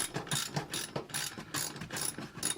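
A ratchet wrench tightening the seat bolts while installing leather seats in a 1998 Honda CR-V, giving rapid rhythmic clicking bursts in quick succession, close up and alone.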